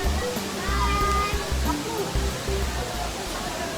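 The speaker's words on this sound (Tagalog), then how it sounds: "There's the Mother Falls." Mother Falls waterfall in Baler pours as a steady, loud broadband rush, with people talking over the water throughout.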